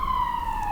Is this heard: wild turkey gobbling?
no